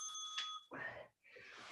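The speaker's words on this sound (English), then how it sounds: "There's the bell." A short, bright timer bell ring with a sustained tone during a bodyweight workout class, followed by a brief break of softer, noisier sound.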